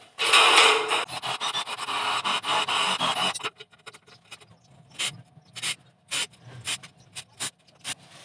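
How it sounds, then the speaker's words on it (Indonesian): A power drill with 5 mm and 10 mm bits whirs steadily for a few seconds, then stops and gives several short bursts of drilling with quiet pauses between them. "Pertama dengan bor 5 mm, kemudian dengan bor 10 mm."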